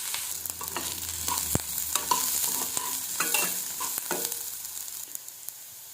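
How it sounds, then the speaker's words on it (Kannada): Onions fry in a pan for a country chicken curry, with a soft steady sizzle broken by scraping stirs and clinks. The sounds are close and moderate in level, with no talking. "ಬಾಣಲಿಗೆ ಹಾಕಿ ಕಂದು ಬಣ್ಣ ಬರೋ ರೀತಿ ಸ್ವಲ್ಪ ಫ್ರೈ ಮಾಡ್ಕೋಬೇಕು."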